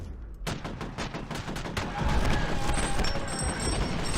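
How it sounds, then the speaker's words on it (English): Gunfire in the F.E.A.R. video game: a rapid string of sharp shots in a steady rhythm, loud and close, then a denser, sustained burst of fire over a noisy battle background. "Two guys at the bottom of the stairs keep shooting me."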